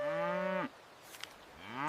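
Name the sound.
cow mooing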